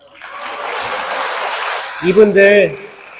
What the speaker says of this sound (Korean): 다혈질들 위해서 박수 한번 쳐주세요